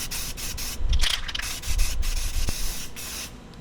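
Aerosol clear coat sprayed in bursts across a steel patina wall-art sign, a close, loud hissing rush that swells and fades over a few seconds with no talking.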